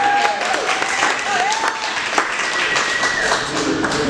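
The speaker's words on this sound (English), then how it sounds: "let's give a huge round of applause for Greg." Audience applause and clapping at a live comedy show, dense and steady throughout, with crowd voices and cheering mixed in.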